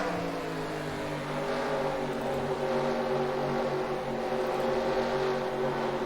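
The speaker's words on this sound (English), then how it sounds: "These cars are hitting about 155 on the back straightaway before they have to brake for the turn." NASCAR stock cars in the NASCAR Racing 2003 video game roar past at around 155 mph on a back straightaway, with a steady, loud engine drone and shifting harmonic whine that rises slightly as the field runs on.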